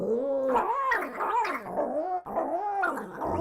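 An agitated dog growls and snarls in a continuous, close, loud run of rumbling vocalizations with rising and falling pitch, with a brief break near the middle, recorded for a creature sound library.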